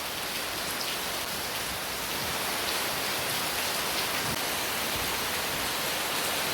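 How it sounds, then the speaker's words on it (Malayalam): Steady rain falls continuously in Kerala, a dense, even hiss of drops on surfaces that holds at a constant level throughout, with no voices. "മഴ അങ്ങനെ തന്നെ പെയ്തുകൊണ്ടിരിക്കുകയാണ്."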